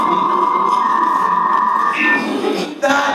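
A dial-up modem connects over a phone line with a steady carrier tone and harsh hissing static, then shifting squeals and bursts of handshake noise, loud and with no talking.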